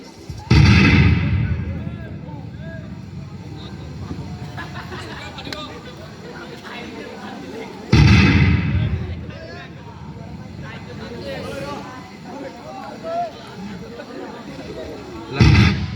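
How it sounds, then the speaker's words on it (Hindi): Heavy explosions from bombs and missiles in a staged war scene, two big booming blasts several seconds apart and a third near the end, with a muffled rumble and crowd noise between them. "अमेरिका और इंग्लैंड की सेना पहुंच गई है। बम और मिसाइल से युद्ध कर रही है।"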